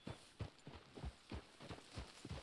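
Horse hooves clip-clop at a walk in the video game Red Dead Redemption 2, about eight even, close thuds in a steady rhythm with no talk over them.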